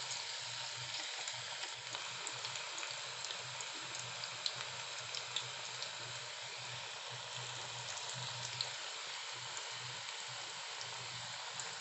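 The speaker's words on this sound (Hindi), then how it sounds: "मीडियम फ्लेम में हम इसको फ्राई करेंगे।" Onion pakoras deep fry in hot oil over a medium flame, giving a dense, even bubbling sizzle that holds steady throughout, quiet but close, with a few faint pops and no talking.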